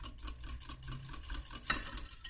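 Egg, oil and buttermilk are whisked together in a bowl for blueberry pancake batter. Soft, rapid, rhythmic stirring sounds close by, with one sharper clink of the utensil against the bowl and no talking.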